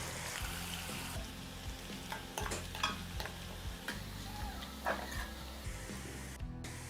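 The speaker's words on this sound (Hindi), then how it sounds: "चमचा चलाकर मिक्स करेंगे और प्याज को हल्का सा ब्राउन कर" Finely chopped onions frying in oil in a pot as a spoon stirs them, giving a continuous soft sizzle broken by scraping and clinking strokes, with no voices.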